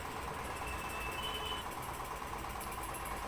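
A sewing machine stitches a Barbie doll lehenga with a continuous, even mechanical whir, faint and close, running steadily without pause.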